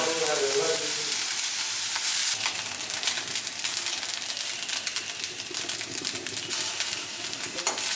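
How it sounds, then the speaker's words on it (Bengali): Onion, corn, capsicum, carrot and beans fry in a pan with a bright, continuous sizzle and crackle, plus occasional stirring scrapes. Close and steady, with no talking. "পেঁয়াজটা অল্প ভেজে নিয়ে তারপর ওর মধ্যে কর্ন আর ক্যাপসিকাম, গাজর, বিনস,"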